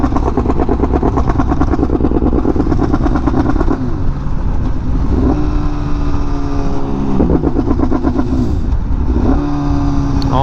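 Honda Fireblade RRR SP sport motorcycle engine droning loud and close in traffic, its tone sagging and stumbling in repeated dips as the faulty bike cuts out, with steady road and wind roar throughout.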